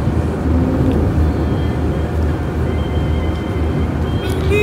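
A Proton Saga 1300cc car drives fast along a winding road, its engine and road roar forming a steady, loud, dense rumble from inside the cabin with no letup.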